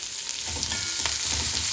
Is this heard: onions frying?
yes